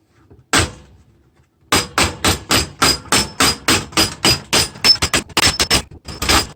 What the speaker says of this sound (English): Start pounding this fender out.